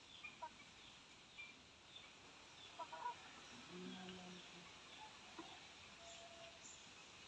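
A chicken clucks faintly and at a distance in a few short, soft calls over a quiet, hissy background.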